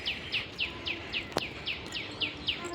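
Birds in the trees of a city park chirp in a regular series of short, repeated sharp calls, fairly close and clear over a low ambient hum, with one brief knock midway.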